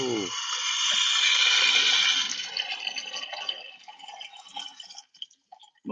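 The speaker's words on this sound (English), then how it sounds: "this water sound's gonna help them" Water pours loudly from a tap while a Keurig coffee maker is being refilled, a close hissing rush that fades and sputters into drips toward the end.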